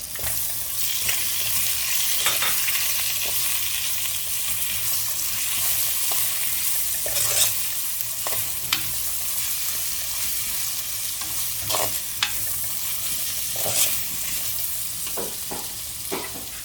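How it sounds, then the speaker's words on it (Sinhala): Tomatoes for chicken biryani fry in a pan with a constant close sizzle, while a spoon stirs and scrapes with occasional knocks against the metal, all without talk. "හරි දැන් ඔන්න අපි මේකට තක්කාලි එකතු කරගන්නවා."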